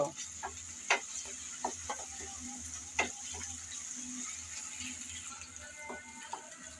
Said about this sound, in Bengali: নেড়ে চেড়ে হালকা করে পেঁয়াজ বেজে নেব